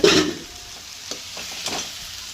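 Roasted eggplant goes into a sizzling chili, garlic and coriander thecha for Khandeshi bharit, starting with a sharp burst of sizzle and then settling into a soft frying hiss with a few light stirring scrapes.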